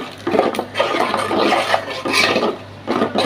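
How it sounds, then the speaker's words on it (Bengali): Chicken being stirred and fried in a pan with turmeric, chili, coriander powder, ginger-garlic paste and salt: steady scraping and clattering of a utensil against the pan over a continuous sizzling hiss, close and moderately loud, with no talk. "হলুদ মরিচ দিয়ে দিলাম, এটা হলো ধনিয়ার গুঁড়া, আর হলো আদা রসুন বাটা, লবণ, এটা দিয়ে আমি ভালো করে কষিয়ে নিব।"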